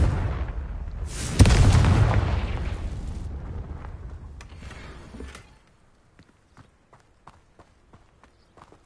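Confringo blasting spell in a wizarding video game: a loud booming blast that rumbles and fades over several seconds, followed by quiet scattered crackles of falling debris.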